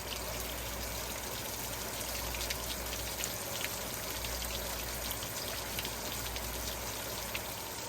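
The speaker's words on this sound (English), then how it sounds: "I wanted to pour these fish out here" Fish and water poured out of a fish washing bucket, a steady broadband splashing and trickling stream that runs continuously and fairly close throughout, with no talking.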